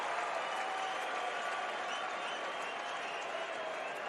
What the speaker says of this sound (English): Big crowd here tonight.